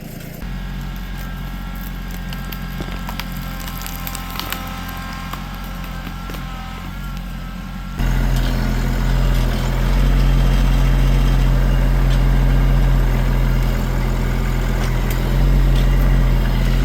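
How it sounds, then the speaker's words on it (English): A tractor engine strains to pull a horse pen post out of the ground, a steady low diesel rumble that swells noticeably louder and heavier about halfway through, with no talking. "Just pull it out with the tractor."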